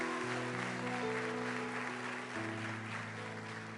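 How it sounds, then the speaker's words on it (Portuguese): A church congregation applauds in a continuous, fairly distant wash of clapping, while sustained keyboard or organ chords play underneath. "Dá uma salva de palmas ao Senhor por isso."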